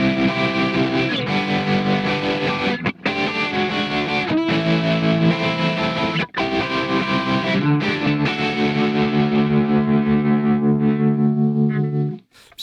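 An electric guitar plays through a distorted Bias FX 2 Pro rock preset: a thick, saturated riff of sustained chords with a few brief breaks, loud and close, ending on a long ringing chord that cuts off.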